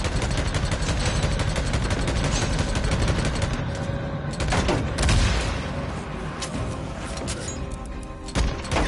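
Rapid gunfire in Days Gone while aiming for headshots, a steady rattle of shots layered with crashes and booms that swell and fade over several seconds, with no talking.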